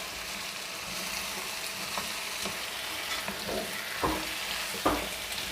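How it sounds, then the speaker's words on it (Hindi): Potatoes, tomatoes and beef mince frying together in a pan for Shinwari aloo keema, with a constant close sizzle and occasional scraping stirs of a spoon, no one talking. "कीमा सब कुछ एक साथ हम भूनेंगे।"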